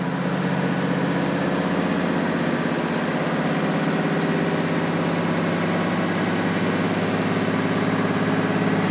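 A 2024 fifth-generation Cummins diesel dually truck engine runs steadily on a dyno at about 3,100 rpm, a continuous loud drone and roar with no breaks and no voices.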